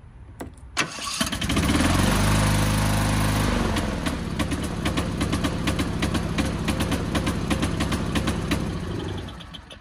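An engine with a broken piston rod, running on a single piston, cranks and catches, then settles into a loud, steady, close running note with a rapid uneven pulse.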